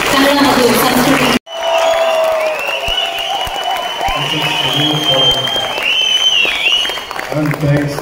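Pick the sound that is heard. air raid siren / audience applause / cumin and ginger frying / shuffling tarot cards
audience applause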